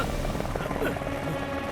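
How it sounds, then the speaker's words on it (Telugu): A cartoon helicopter in the animated series Motu Patlu whirs in a steady drone, partly under a character's talking voice. "అరే హెలికాప్టర్ ఎక్కడ తీసుకెళ్తున్నావు?"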